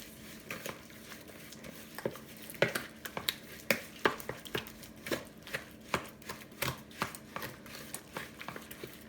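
A banana bun mixture being mixed by hand in a big bowl makes soft, irregular tapping and scraping knocks of a utensil against the bowl, fairly quiet and close, with no talk.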